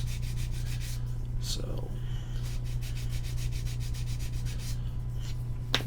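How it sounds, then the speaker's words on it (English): Rhythmic back-and-forth rasping of an Infini Model zebra 100 grit sanding stick against a mold box part, close and steady over a low constant hum, with a brief word spoken at the start. "one of these Infini Model zebra sanding sticks, the 100 grit"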